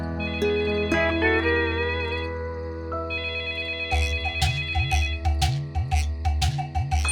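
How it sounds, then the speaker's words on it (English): A telephone in a children's animated story rings with a bright electronic ringtone, repeating warbling tones that build into a quick, rhythmic chiming pattern, loud and close with no talk over it. "suddenly the phone rang"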